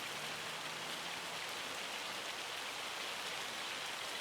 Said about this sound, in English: It's hail